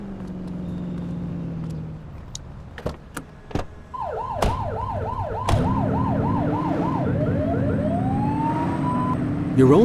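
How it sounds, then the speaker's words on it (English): A police car siren in the video game The Precinct wails in a fast rising-and-falling pattern, then shifts to a steadier tone, with sharp clicks and a running engine underneath. "You're only meant to use the siren in emergencies."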